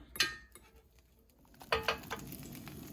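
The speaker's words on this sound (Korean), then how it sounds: "계란을 포슬포슬하게 볶아줍니다" Eggs stir-fried over medium heat in a pan for a tomato-egg dish, heard as a few sharp utensil clinks and scrapes against the pan, with a faint sizzle underneath.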